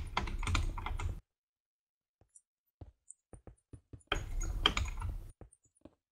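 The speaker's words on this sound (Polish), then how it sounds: "Mam nadzieję, że teraz naprawdę nie słychać tej klawiatury, bo spacja u mnie chodzi jak szalona." A computer keyboard is typed on during a Speed Builders game, with its space bar clattering loudly. Dense bursts of rapid, close keystrokes alternate with a quiet stretch of sparse single taps.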